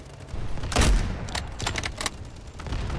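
Gunfire in the shooter game Delta Force: a loud close burst followed by several rapid shots and scattered distant rounds, with no talking.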